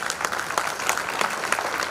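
Audience at the inaugural session of a conference clapping steadily, a dense close burst of hand claps with no voices over it.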